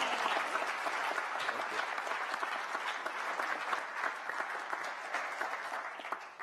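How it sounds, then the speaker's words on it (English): An audience at a clean energy business panel applauds warmly, dense steady clapping that fades slightly toward the end. "he deserves a warm round of applause as we sit down and shift to the questions"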